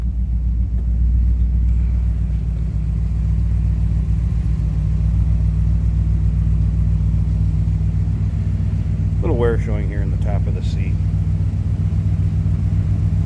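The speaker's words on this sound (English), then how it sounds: "Nice little rumble coming out of that V8. Sounds good." The 312 V8 of a 1957 Mercury Montclair two-door hardtop idles with a steady, close, even low rumble throughout. Someone briefly speaks over it near the end.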